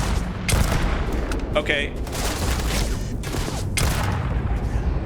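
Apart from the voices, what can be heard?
gunfire from a gun in the video game Starfield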